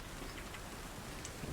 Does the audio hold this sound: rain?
yes